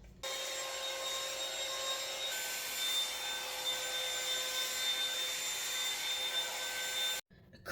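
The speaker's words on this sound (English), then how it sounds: "I'm about to use my comb blow dryer" A comb blow dryer for natural hair runs steadily, a constant whirring motor whine with airflow hiss that shifts speed partway through, then cuts off near the end, no talking.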